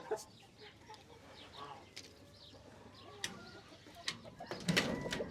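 Hens in a new coop on a cold morning, giving soft scattered clucks and coos at close range, with a louder burst of clucking near the end over a low background hum.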